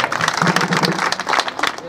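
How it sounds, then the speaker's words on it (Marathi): A kirtan audience gives a brief, lively burst of clapping: close, crisp hand claps in an uneven rhythm that swell and then fade within a couple of seconds. "याला टाळ्या वाजवा तुमच्या करता"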